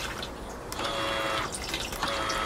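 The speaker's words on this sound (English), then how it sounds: "we're going to have to hit the flush button on this side." A Thetford Porta Potti portable toilet flushes with a steady, fairly quiet rush of water that hisses on with slight surges throughout.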